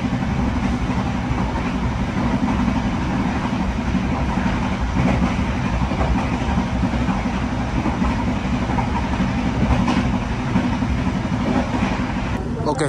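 Singasari passenger train running on rails on the line toward Kediri and Blitar, a steady loud rumble with rolling wheel noise throughout, heard from on board or close by.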